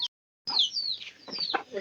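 Backyard chicks peep in high, falling notes while hens cluck close by, the calls coming in a steady stream after a short silence.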